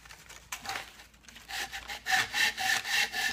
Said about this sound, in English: I can draw file it by using my wrists and drawing it down like that